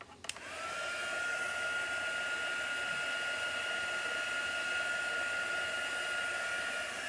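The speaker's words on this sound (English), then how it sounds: "I'm then going to go back with my heat gun." A heat gun melting wax on a chalk-stenciled craft project blows a steady, even whir after a brief click on, holding at one level close by with no talk.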